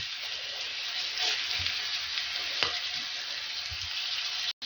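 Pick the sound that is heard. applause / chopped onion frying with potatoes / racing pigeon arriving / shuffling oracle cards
chopped onion frying with potatoes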